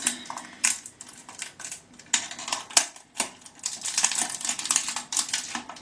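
A pimple patch package being torn open and handled, giving close crinkly rustling and sharp plastic clicks, quiet and irregular, with no voice over it.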